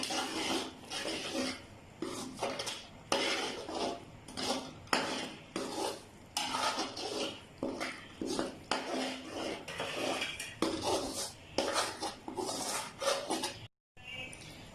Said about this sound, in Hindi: और इसके बाद खुश्क दूध डाल दूंगी इसके अंदर। और इसको अच्छी तरह मिक्स करूंगी।